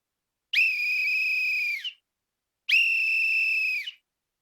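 Two long, shrill whistle blasts, each about a second and a half, separated by a short silence, loud and clear.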